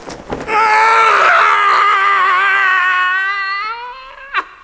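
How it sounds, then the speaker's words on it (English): A man's long, loud yell of horror on waking early in the morning, rising sharply, holding a strained, wavering tone for several seconds and then trailing off, followed by a short final burst. "The regular early morning yell of horror"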